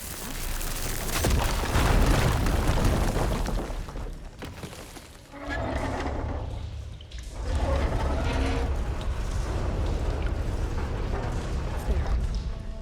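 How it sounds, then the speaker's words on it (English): A deep booming blast from the game Horizon Forbidden West, followed by rumbling low noise and scattered mechanical clatter, loud and sustained. "An explosion."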